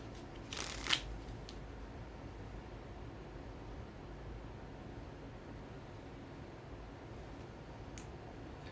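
Tarot cards give one quick, soft riffling shuffle near the start, then only faint room hiss follows for several seconds.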